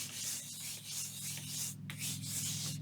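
Hand rubbing glued paper flat onto a journaling card, a close, steady rhythmic swishing scrub with repeated strokes and a short pause near the end.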